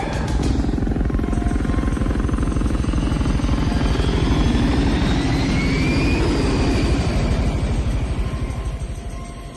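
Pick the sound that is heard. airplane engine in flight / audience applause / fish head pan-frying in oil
airplane engine in flight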